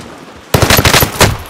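A loud, fast burst of machine gun fire in the video game Call of Duty, a rapid even rattle of shots that breaks off briefly and then returns for a few more rounds after a short stretch of quiet.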